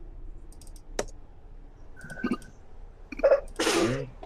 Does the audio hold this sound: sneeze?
yes